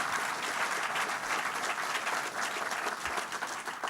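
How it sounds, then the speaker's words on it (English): A crowd applauds legislators at a New York City government announcement, with thick, continuous clapping from many people sustained at an even level throughout. "Let's give another round of applause to the legislators who are here today"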